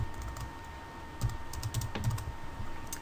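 Typing on a computer keyboard while entering code in Game Maker, a close run of quick, uneven key clicks with short pauses, heard alone.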